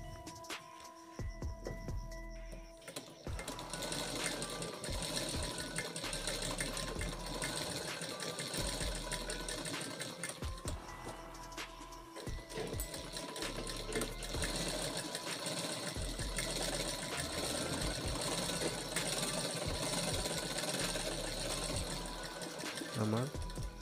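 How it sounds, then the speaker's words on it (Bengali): An electric sewing machine stitches the bottom seam of a zippered chain bag, running in long continuous bursts with brief pauses, loud and close throughout. "নিচে সেলাই দেবো।"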